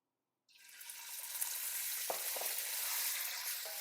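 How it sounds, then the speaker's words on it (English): Beef stir-frying in a very hot pan, a loud, dense sizzle that starts abruptly and holds steady, with a couple of brief stirring scrapes and no talk. "And you'll find that the beef will start cooking pretty much immediately."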